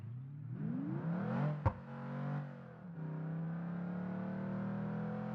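A V16 car in a racing game mod, voiced with a V12 engine sound, revs up through rising harmonic tones, then a sharp pop cuts in before the engine settles into a steady, even drone with no one talking.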